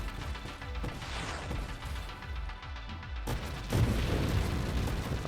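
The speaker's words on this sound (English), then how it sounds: "That was a fun explosion." Explosion in the video game Spelunky 2, heard as a dense, loud blast with crashing debris over steady game sound, swelling again near the end.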